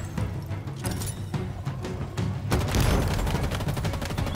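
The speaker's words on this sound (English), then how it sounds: "We're being shot from every direction right now." Dense sustained gunfire and explosions in a Halo Infinite campaign battle, continuous loud shooting that swells into a heavier barrage halfway through.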